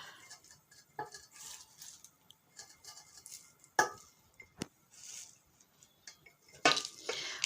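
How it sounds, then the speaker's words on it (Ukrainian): Shredded early cabbage packed lightly into glass jars with no salt, sugar or vinegar, giving quiet scattered clinks, taps and soft rustles of glass and vegetable, with a few sharper knocks against the jars. "Закладаємо капусту в баночки."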